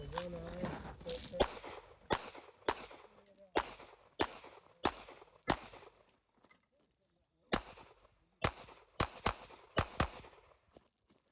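Glock 19X handgun firing a string of sharp, separate shots in uneven clusters, about fifteen loud cracks spread over the span with short pauses, and a voice briefly heard at the start.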